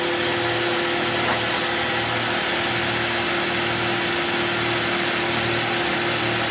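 Skew chisel making a finishing cut on a pen spinning on a wood lathe, a continuous close hiss and whir with a steady motor hum underneath, with no talking and no breaks.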